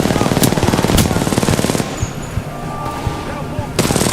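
Machine gun fire in the Titanfall 2 video game, loud rapid bursts of shots over a constant roar of battle noise, with a brief lull in the middle before the firing resumes.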